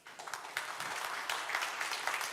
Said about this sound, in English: I think your claps say it all.